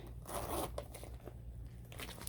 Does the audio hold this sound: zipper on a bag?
yes